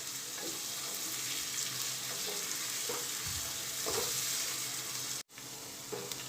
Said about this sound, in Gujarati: એકદમ ગુલાબી જેવી થાય, એના બધા પાંખડા છૂટા પડી જાય ત્યાં સુધી એને આપણે ચડવા દઈશું અને વચ્ચે વચ્ચે આ રીતે હલાવતા રહીશું